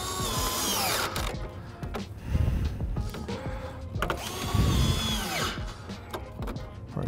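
A T15 screwdriver drives screws into the rear diffuser insert of a 2020+ C8 Corvette Stingray: two bursts of power-tool whirring, each with a low rumble, close and fairly loud, with no talk.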